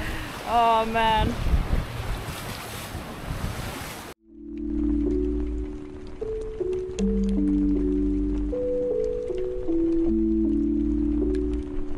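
A boat on a rainy Amazon river in Peru's Manu National Park gives a close, steady rush of engine and wind for about four seconds, with a voice over it, before falling away to soft sustained musical tones.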